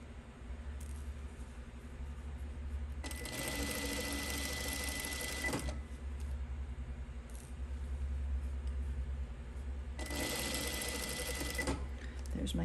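A sewing machine runs in two bursts, stitching through several layers of pajama-shorts fabric, a fast steady whirring that stops and restarts after a pause, with quiet handling sounds between.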